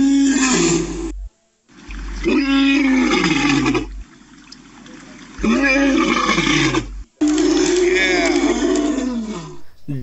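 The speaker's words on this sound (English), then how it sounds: "Lion's sound is also known as roar." A lion gives a series of deep, loud roars in separate bursts broken by short silences, each swelling and then trailing off in rough grunts.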